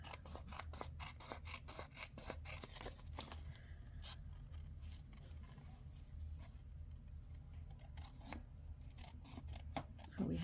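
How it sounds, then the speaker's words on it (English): Snips cut around a paper card in quick crisp snipping clicks, dense at first and then sparser, with soft rustling of paper close by. "And then we will take our snips. And just cut around."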